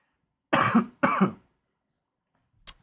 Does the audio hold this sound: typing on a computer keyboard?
no